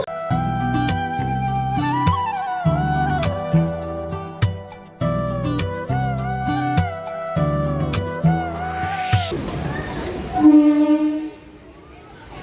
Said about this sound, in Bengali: এই মুহূর্তে আমাদের ট্রেন এসে পৌঁছেছে নৈহাটি জাংশন